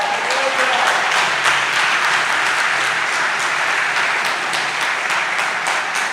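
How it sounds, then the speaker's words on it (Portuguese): A church congregation applauds in a dense, loud, sustained wash of clapping that stays even throughout, with only faint voices mixed in. "Você pode aplaudir a Ele."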